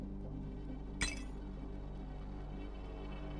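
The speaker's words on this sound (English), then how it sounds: "That sounds like you're sending crystals flying everywhere in a room full of electronics." Crystals shattering in the game Nikke: Goddess of Victory: a single sharp glassy crash near the one-second mark, brief and bright with a short tinkling tail, over a steady low hum.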